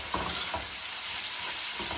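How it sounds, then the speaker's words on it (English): Onion stir-fried in a hot pan alongside seared wahoo and yellowtail tuna in olive oil, a steady close sizzle broken by a few scraping stirs, no voices. "Next we're going to add in the onion."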